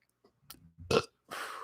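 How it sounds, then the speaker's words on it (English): A man lets out a single burp after drinking water, a short throaty belch preceded by faint mouth noises and followed by a brief breathy exhale, close to the microphone. "That was water making me burp."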